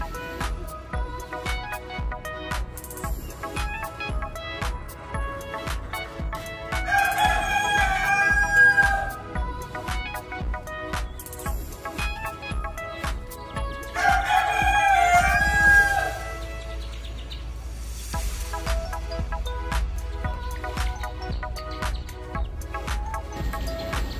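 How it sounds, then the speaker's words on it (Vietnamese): A young northern Vietnamese mini bantam rooster, a little over three months old, crows twice at moderate distance, each crow about two seconds long, over a steady background of clicking and rustling noise. "Em trống thì được hơn 3 tháng rồi, gáy rồi."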